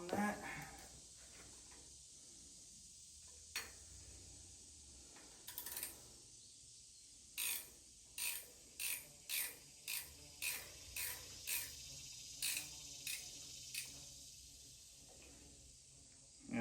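A socket ratchet wrench works an engine bolt on a 1955 Farmall 200 tractor, giving a run of about nine sharp, evenly spaced clicks after a few scattered clanks, fairly close with light background noise.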